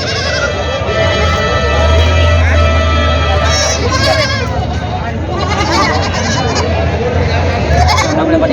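Goats bleat repeatedly at a busy goat market in Vasmat, Hingoli, Maharashtra, nearby and distant calls overlapping amid crowd chatter and a steady babble of voices.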